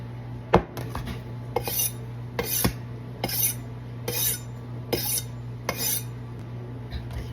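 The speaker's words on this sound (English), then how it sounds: "So, yeah, I'm going to cut my cheese like this." A knife slicing Colby and sharp cheddar cheese without a cutting board, making about eight evenly spaced strokes, each a short scrape or knock with a bright rasping edge, close and alone over a low steady hum.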